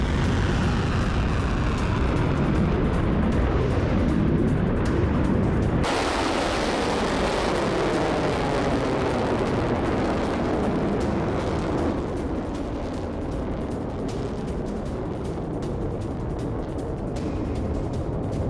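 Explosions from an Iranian Fateh missile attack on Israel in news footage: loud, continuous blasting roar and rumble with dense noise throughout, a sharp change around midway, no talk over it.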